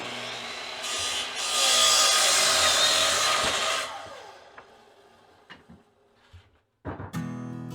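Saw blade cutting through a 2x4 for picnic table legs, a loud rasping cut of about three seconds that fades, followed by scattered wooden knocks and clatter.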